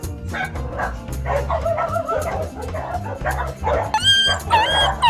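A dog barks repeatedly in quick yips and bow-wows, fairly close, with higher whimpering cries near the end, over steady background music.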